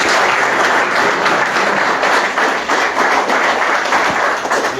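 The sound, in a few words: audience applause for the speaker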